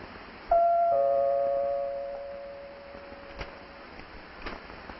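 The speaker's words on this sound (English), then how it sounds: "And then one day, you're ringing their doorbell." A doorbell rings with a clear chime, a sustained tone that fades slowly over a couple of seconds, followed by quiet room ambience with a few faint knocks.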